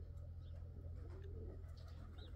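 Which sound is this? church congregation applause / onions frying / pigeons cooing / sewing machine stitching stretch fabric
pigeons cooing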